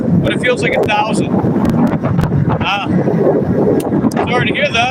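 Wind buffeting a microphone outdoors on a windy evening: a constant low rumbling roar under someone talking, with irregular gusty bursts throughout.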